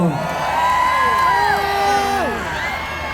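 A crowd at a mor lam folk concert in Phra Pradaeng cheers and whoops loudly, with rising and falling shouts overlapping over the music and a continuous, dense roar of voices.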